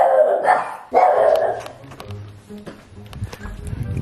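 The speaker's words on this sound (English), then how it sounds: "These dogs are trying to snitch on me." Dogs bark loudly at close range in a house, with two sharp barks at the start followed by quieter yips and scuffling.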